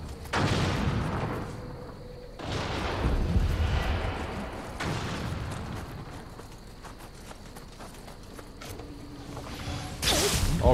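An enemy's cannon fires in the video game Nioh 2 with several heavy booming blasts spaced a few seconds apart, each followed by rumbling, mechanical clatter and creaking in between.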